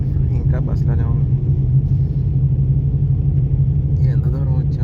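Inside a moving Dolphin bus on the road from Mumbai to Hyderabad, a deep, steady engine rumble drones on throughout, with faint voices murmuring now and then.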